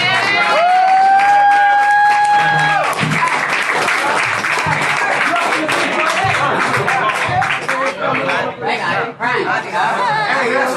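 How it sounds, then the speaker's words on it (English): Audience applause for Brother Shaw at a Long Beach event: loud, sustained clapping mixed with crowd chatter and a few whoops, with a voice speaking over it, tapering off toward the end. "Everybody give Brother Shaw a round of applause"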